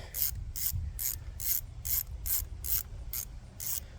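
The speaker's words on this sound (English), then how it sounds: "And then you get your ratchet and" A hand ratchet tightens a spark plug with about ten crisp, evenly spaced clicks, close and clear, with no talking.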